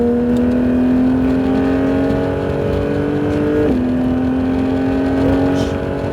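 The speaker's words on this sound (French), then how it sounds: "Regarde, et on accélère" A Porsche GT3 accelerates on a race track, its engine a loud, steady high-pitched drone climbing in pitch, briefly dipping at a gear change before rising again.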